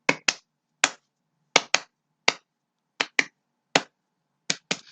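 Double hand claps in pairs, sharp and close, repeating in a steady rhythm with short silent gaps and no voices.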